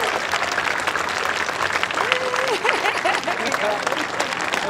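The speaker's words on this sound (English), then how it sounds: "these guys deserve a pretty big hand of applause for coming up with their" A crowd at a hyperloop pod competition claps for a pod design team, dense continuous applause with voices and cheers mixed in.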